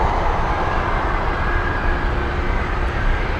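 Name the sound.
heavy Boeing 747 taking off at Anchorage airport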